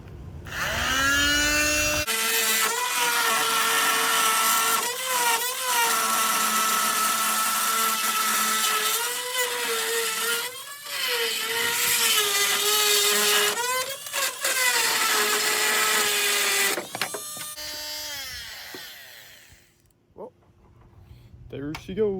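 A power tool whines in repeated bursts while backing headlight screws out of a school bus, its motor rising and falling in pitch with brief pauses between runs before the whirring stops and a few faint clicks follow.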